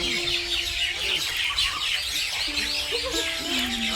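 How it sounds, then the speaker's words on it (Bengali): Cuckoos, peacocks and other birds call through a dim forest in the Braj region, with steady overlapping chirps and a few longer tonal cries against a constant bright background chorus. "চারিদিকে কোকিল, ময়ূরের কণ্ঠধ্বনি"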